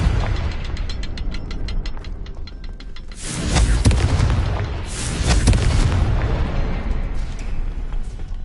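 Confringo blasting spell in Hogwarts Legacy, a loud fiery burst with a booming explosion and crackling debris, following a run of rapid mechanical clicking, two heavy blasts rolling close and alone.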